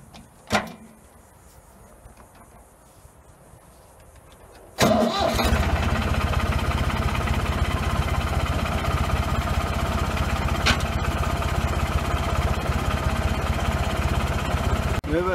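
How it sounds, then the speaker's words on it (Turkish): After a few quiet seconds with a single knock, a heavy tractor engine cranks and roars to life, then runs at a loud, steady, rumbling idle. "şimdi traktörü çalıştırıyoruz."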